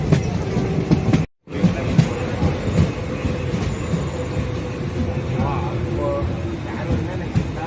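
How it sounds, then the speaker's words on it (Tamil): A train leaves Vriddhachalam railway station, heard from on board as a steady rattle and clickety-clack of wheels and carriages with brief squeals, a voice speaking over the running noise. "நமது ரயில் விருதாச்சலம் ரயில் நிலையத்தை விட்டு புறப்பட்டு விட்டது பாருங்க"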